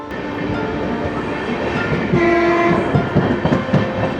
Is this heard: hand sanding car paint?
no